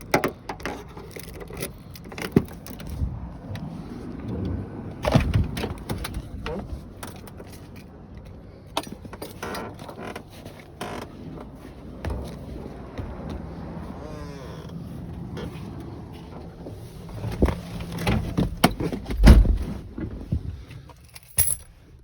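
Keys jangle and clatter in short bursts while a 1995 Ford Ranger with manual keyed entry is unlocked outdoors in snow, with scattered metallic clicks and rustling close by.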